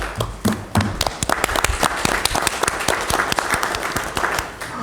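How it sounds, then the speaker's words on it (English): At a city council meeting, the audience applauds a local business and the people behind a successful event, steady moderate clapping with sharp individual hand claps standing out throughout. "we also want to give a round of applause to Pete's and everyone who made it a success"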